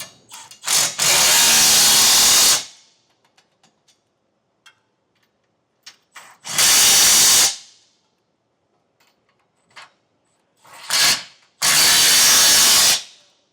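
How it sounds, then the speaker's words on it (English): A powered socket driver with a 19mm socket runs down trailer hitch bolts on a 2025 Nissan Frontier, three loud whirring bursts of a few seconds each, with quiet clicks and handling noises between them. "we can take a 19mm socket and tighten our hardware down"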